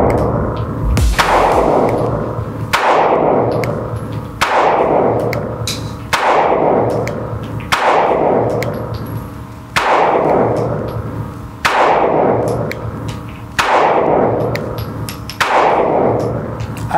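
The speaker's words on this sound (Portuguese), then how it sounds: "primeiros disparos que eu fiz com essa arma, uma cadência um pouquinho mais rápida" Sig Sauer P320 M18 pistol firing CBC ETOG ammunition at a 10 m range, eight sharp close shots at a steady brisk rhythm, each followed by a decaying echo.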